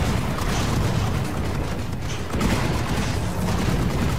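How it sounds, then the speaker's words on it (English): A bomb detonates in the video game Tower Wars, a dense rumbling roar of game explosions and battle noise running steadily from start to finish at a constant loud level. "Oh, that was a bomb. It just went down."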